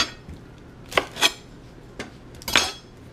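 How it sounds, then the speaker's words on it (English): Dry skin is peeled off an onion by hand, making a handful of short, crisp papery crackles and rustles up close, separated by quiet pauses. "And I'm going to peel the skin right off just like that."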